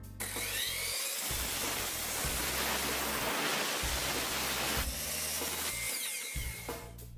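Chop saw slicing an angled cut off the edge of a wooden board for a 20-degree guide, a loud sustained whining rip lasting several seconds, close up, with the motor spinning up before and winding down after.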